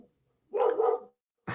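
A dog lets out a single short bark, moderately close and clear against a quiet background, with the start of another bark cut off at the end.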